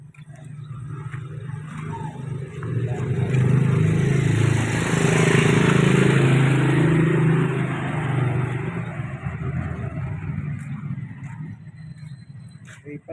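Motorcycle passing along a road, its engine rumble swelling as it approaches, holding loud for a few seconds up close, then fading away as it leaves.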